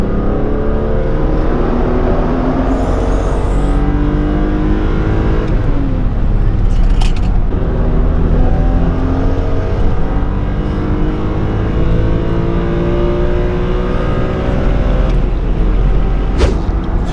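A BMW E46 M3 convertible engine rumbles loudly nearby, revving up and settling back several times, with deep steady exhaust tone throughout.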